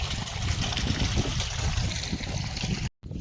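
Water runs from a hose during outdoor watering, a steady, close trickling and gurgling flow that breaks off briefly near the end before resuming, with no talking.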